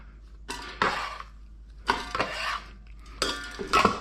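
Chopped chicken pieces dumped into a metal pressure cooker insert land in three separate bursts of clattering, thudding impacts with metallic clinks, close by and fairly loud with quiet pauses between.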